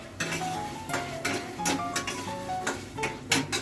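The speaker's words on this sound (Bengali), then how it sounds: "তো চিকেনটা কষা চলছে" Chicken stir-fried in a pan while a spatula scrapes and clinks against the metal over and over in an uneven rhythm, close and clear, with a soft sizzle underneath.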